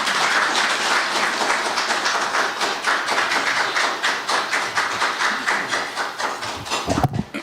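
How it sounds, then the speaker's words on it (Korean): An alumni forum audience at Seoul National University welcomes a speaker with dense, sustained applause that thins into scattered claps before ending abruptly. "연사 나오실 때 큰 박수로 환영해 주시면 고맙겠습니다"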